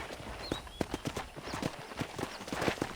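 Horse hooves clip-clop in a steady walking rhythm in Red Dead Redemption 2, with crisp close hoofbeats and faint bird calls in the background.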